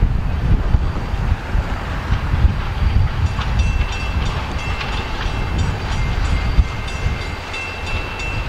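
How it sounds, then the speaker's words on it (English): Escanaba and Lake Superior Railroad train 503 rolls past heading south on a snowy day, a steady loud rumble with rail clatter and wind noise throughout, no voices. "Escanaba Lake Superior Railroad 503 heading south."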